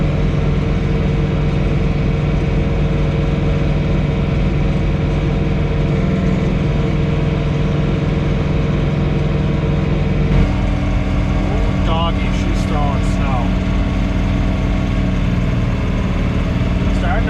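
A John Deere 3 Series compact tractor runs a snow blower at about 2,600 RPM, giving a steady, loud engine drone with a slight shift in tone midway and no break in the noise.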